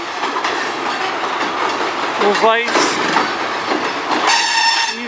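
A train passes on the Strathroy Subdivision, a loud continuous rumble of rail cars with clattering wheels, a brief squealing tone midway, and someone talking over it.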